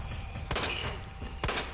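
Two sharp gunshots from a handgun in Resident Evil 2, about a second apart, each a loud broadband crack with a short decaying tail over low ambient game noise.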